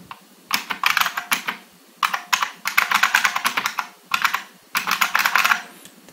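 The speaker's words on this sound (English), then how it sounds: "Let me type on it a little bit more so you can get a sense of how it sounds." Bursts of loud, clacky typing on a Unicomp Ultra Classic Model M buckling spring keyboard come in four quick flurries separated by short pauses, close and crisp with no talking.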